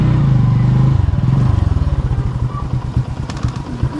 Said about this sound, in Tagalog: May mga motor din sa baba, oh.